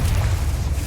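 A Confringo spell blasts in Hogwarts Legacy as a short burst of deep, rumbling explosive roar, loud and continuous, with a hissing fiery wash above it.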